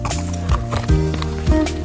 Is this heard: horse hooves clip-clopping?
yes